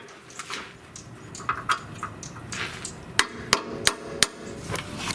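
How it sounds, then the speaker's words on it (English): Several sharp metallic hammer blows drive a punch against a stuck bolt in a Duramax truck's front axle, starting as lighter taps and building to loud, evenly spaced strikes close by. "So then I'm going to just punch it the rest of the way"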